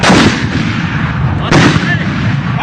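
Thai army heavy mortar firing outdoors: two loud, booming blasts about a second and a half apart, each with a long rumbling tail that fills the clip.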